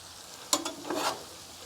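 Cabbage, sausage and shrimp frying on a Blackstone griddle, with a brief stirring scrape and a short burst of sizzling over a quiet background.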